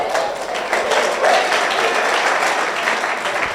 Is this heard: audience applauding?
yes